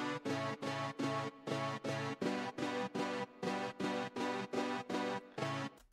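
Ralph synth pad preset pulsing in its own chopped rhythm, evenly spaced chord bursts with short silences between, about two per second, alone and fairly quiet.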